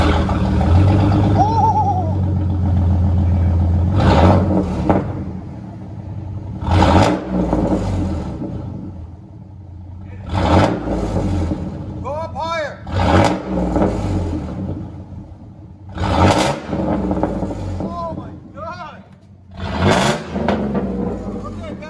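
Chevy Silverado pickup with a 4.3L V6 and dual tip exhaust revving repeatedly, with loud bursts about every few seconds that drop back to a rumbling idle between them. The truck is close.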